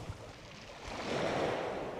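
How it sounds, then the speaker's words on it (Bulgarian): Sea waves wash over wet pebbles on the shore at Nice at night, a soft hissing surge that swells and rolls for a couple of seconds, faint and close, with no voices. "Чухте ли камънчета така?"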